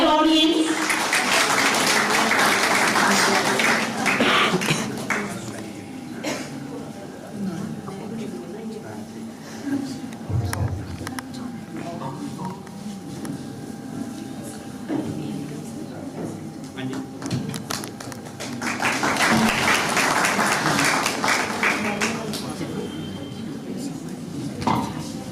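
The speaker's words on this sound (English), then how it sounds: "A very big round of applause by the audience." Audience applause at an international seminar in a college hall, broad dense clapping at the opening and swelling again near the end, with a quieter stretch of murmuring and room noise between.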